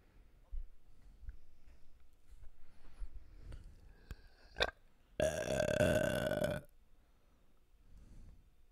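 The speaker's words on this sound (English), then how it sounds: "you're over here burping in the microphone" A man burps loudly and close into a microphone, one drawn-out, throaty belch lasting over a second in the middle, with a few faint thumps and quiet background noise around it.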